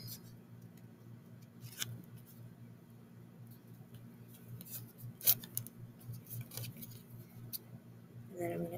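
Scissors snipping cardboard for a skimmer build, with a few quiet, sharp cuts and clicks spaced over a faint steady background hum.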